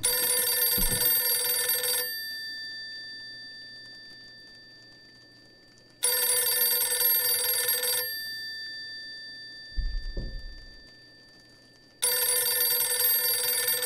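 A telephone in the horror video game Visage rings loudly in three long bursts about four seconds apart, each a bright electronic trill that fades slowly, with a couple of low thumps in the quiet gaps.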